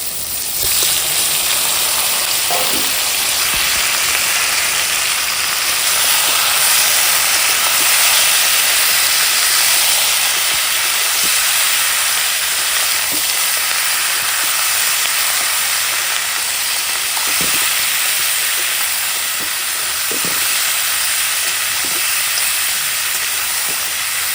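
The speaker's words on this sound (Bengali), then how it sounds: "এই মাংস ভাজাটা গেছে" Chicken pieces sizzle steadily in a hot pan, a loud, continuous hissing spatter that holds for the whole stretch with occasional sharper pops and no talking.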